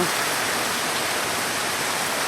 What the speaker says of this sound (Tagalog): grabe yung ulan po, may kasamang hangin, tapos malakas ang ulan, walang tigil po.